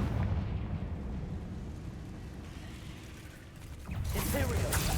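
Confringo fire spell exploding in Hogwarts Legacy on PC, a loud booming blast with a crackling burst of debris near the end, over rumbling game ambience.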